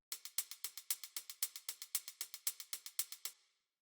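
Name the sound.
three layered hi-hats in an electronic music beat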